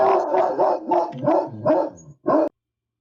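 A dog barks about six times in a quick, rhythmic series, close and fairly loud, then falls silent.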